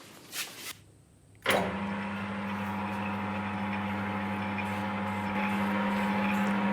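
Crank polishing machine switched on in a workshop, a short thunk and then a steady motor hum that holds at slow speed, close and continuous.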